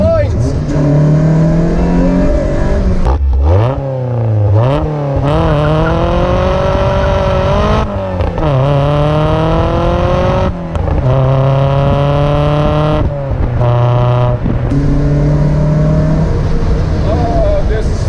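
A Lotus sports car with a decatted exhaust revs hard and loud nearby, its engine note rising and falling through repeated sweeping revs with short breaks between them.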